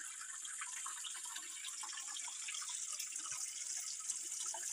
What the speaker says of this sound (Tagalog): I-divert yung tubig dito.